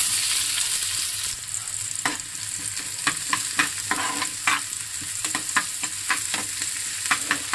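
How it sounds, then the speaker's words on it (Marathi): Chopped onion frying in hot oil in a pan for a Konkan-style fresh cashew vegetable, with a steady sizzle and repeated sharp scrapes and clacks of a spoon stirring it. "गोल्डन ब्राऊन कलर येईपर्यंत आपल्याला हा कांदा चांगला फ्राय करायचा आहे तेलामध्ये."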